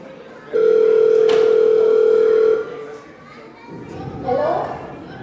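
A telephone tone during a phone call in a family-night skit: one long steady electronic tone of about two seconds, followed by quieter noise and faint voices.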